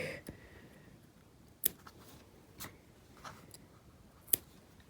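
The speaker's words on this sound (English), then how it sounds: "I'm free to snip those close to the work" Scissors snip yarn ends close to the edge of a crocheted hexagon, a few sharp, isolated clicks spaced out over quiet, close and faint.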